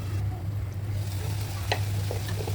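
Dried Bombay duck (loitta shutki) cooks in a pan over low heat, giving a soft, steady sizzle beneath a constant low hum, with a few faint clicks near the end.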